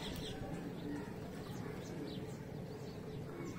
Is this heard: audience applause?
no